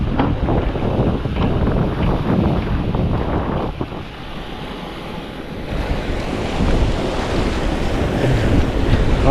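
Ocean waves and surf seen from a fishing outing, a loud, continuous washing roar with heavy wind buffeting the microphone, swelling and easing without pause.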